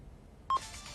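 One short tonal beep of a telephone being dialed sounds about halfway through, fairly loud and alone after quiet, followed by a faint lingering tone.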